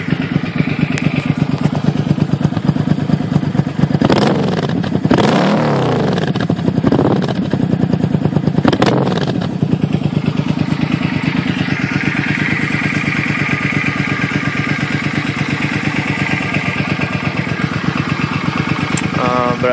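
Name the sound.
2007 Suzuki M50 motorcycle engine running, heard at exhaust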